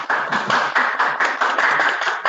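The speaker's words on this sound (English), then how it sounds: "We are applauding" An audience at a civil protection ceremony applauding, a dense, even wash of clapping with a steady pulsing rhythm, loud and close throughout with no voices over it.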